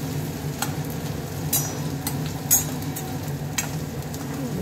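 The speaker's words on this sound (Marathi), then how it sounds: "बटाटे नंतर मग कांदे फ्राय होऊ देऊया. आपण 2-3 मिनटं जरा हलवत राहावं लागतं." Potatoes and onions frying in a pan give a steady, dense sizzle, with a few sharp scraping stirs of a spatula cutting through at intervals, close and continuous throughout.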